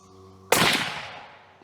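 A single sharp rifle shot from a Savage 110 Trail Hunter firing 300 WSM ammunition at a shooting range, a loud close crack that trails off in a decaying echo over about a second.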